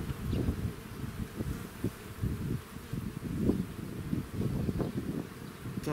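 Honeybees buzzing close by as they are moved from one hive to another, a continuous wavering hum with rustling handling noise.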